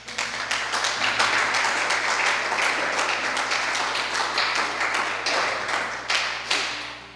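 Church congregation applauding the Lord during a Portuguese-language evangelical service, dense sustained clapping from many hands filling the room for about seven seconds.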